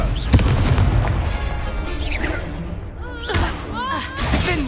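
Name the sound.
Confringo fire spell explosion in video game Hogwarts Legacy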